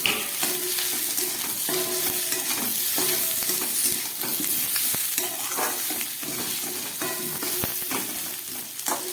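Spices and pre-fried potato sizzling in a pan as they are stirred, a continuous close hiss broken by repeated scraping and clinking strokes of the spoon against the pan, with no talking.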